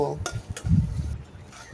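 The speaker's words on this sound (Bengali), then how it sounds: "আমি 2টো শুকনো লঙ্কা, 2টো তেজপাতা আর জিরে ফোড়ন দিলাম। সবটাকে ভালো করে একটু লাল লাল করে ভেজে নেব।" Dry chillies, bay leaves and cumin fry in hot oil in a pan, a faint sizzle broken by a few sharp clinks of a spoon against metal and a soft scraping stir, close and brief.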